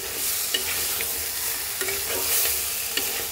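Mutton being stir-fried with ground coriander, cumin and other spices for a thin Bengali mutton curry: a steady sizzle with spoon scrapes and a few sharper clinks against the pan, close and fairly loud.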